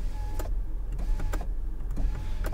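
The power window of a Skoda Octavia hums as the glass travels upward, a faint motor whine broken by several sharp clicks and knocks, close and quiet, with no talking.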